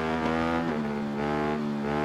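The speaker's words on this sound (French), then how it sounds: "C'est parti avec le Ducati 848 full prépa. Parti pour faire la grande ligne droite en full." In the racing game Ride 3, a fully tuned Ducati 848 twin-cylinder motorcycle accelerates hard down a long straight, a loud steady engine whine that rises and shifts in pitch, without talk.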